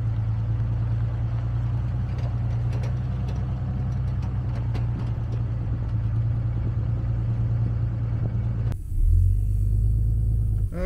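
A tow truck pulling away while towing a truck that is itself towing a trailer, with a steady low engine rumble. It rises into a heavier, louder revving surge near the end.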